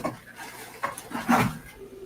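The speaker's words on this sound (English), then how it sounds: "It's a dog. That's a dog." A dog pants and shifts about close by, breathy bursts rising and falling in short irregular spurts with a louder rough huff near the end, no speech.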